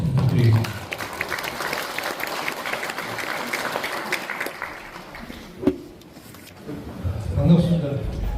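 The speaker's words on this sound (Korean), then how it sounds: "박수, 큰 박수 부탁드리겠습니다." An audience at a Korean Provisional Government anniversary lecture applauds a guest lecturer, dense clapping that holds steady for several seconds, thins out, then ends in a brief burst of speech.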